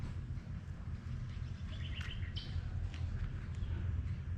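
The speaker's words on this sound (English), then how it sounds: "Listen to the birds." Birdsong at a rainforest caravan park by the springs in Mataranka, Northern Territory: scattered chirps and short calls over steady low outdoor rumble and ambient noise, no talking.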